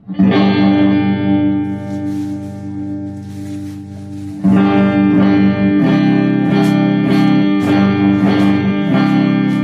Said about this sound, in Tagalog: pakinggan natin yung neck pickup natin